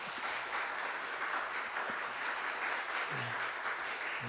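A church congregation applauding during a Sunday morning service, the clapping faint and continuous, steady at a distance.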